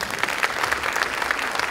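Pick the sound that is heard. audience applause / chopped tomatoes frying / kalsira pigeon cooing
audience applause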